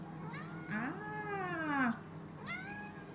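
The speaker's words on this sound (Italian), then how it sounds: "Che bello questo gattino" A kitten named Pippo meows close by, one long drawn-out wavering meow followed by a shorter second one, with a brief voice exclaiming at the start.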